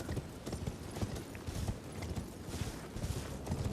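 A horse gallops in the video game Elden Ring, quick rhythmic clip-clop hoofbeats running steadily under faint game ambience.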